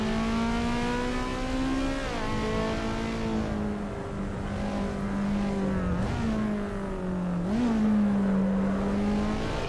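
Racing car engine from the video game Assetto Corsa EVO, heard from inside the car, a steady high-pitched drone with pitch dips at gear changes and brief rises as it revs, loud and continuous.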